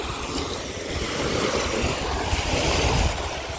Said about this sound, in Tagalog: Kalmang-kalma ang karagatan mga kadagi.